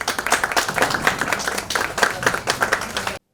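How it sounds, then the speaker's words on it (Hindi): An audience at an investor knowledge session on health and wealth claps loudly, a close, lively burst of many hands with distinct slaps, ending abruptly after about three seconds. "जोरदार तालियां।"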